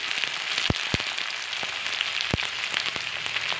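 Onions frying in hot oil with whole spices such as cinnamon and cardamom, a soft continuous sizzle with a few sharp pops and clicks from the pan, close and fairly quiet.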